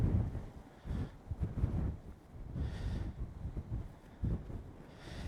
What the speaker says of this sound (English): big gust of wind coming up here